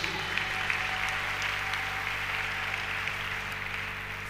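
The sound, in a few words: congregation applauding to acclaim Jesus at a church service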